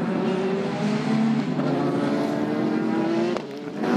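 Porsche and Toyota endurance race cars at the Nürburgring roar steadily during the 2017 six-hour race, with shifting engine tones and a brief dip near the end.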